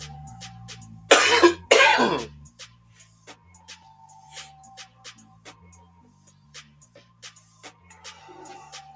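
Two loud, harsh coughs burst out close to the microphone during a live stream, followed by quiet room noise with soft clicks and light rustling.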